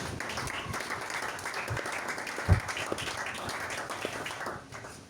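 A church congregation applauding to acclaim Jesus, a steady, moderate wash of clapping with a brief louder burst midway, fading slightly at the end.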